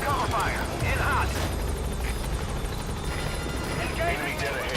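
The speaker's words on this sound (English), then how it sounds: "I don't like using the helicopter so many times because it makes me feel bad about my own game play" The support helicopter in Metal Gear Solid V arrives with a steady rotor roar and engine noise. Game radio voices and scattered combat sounds play over it throughout.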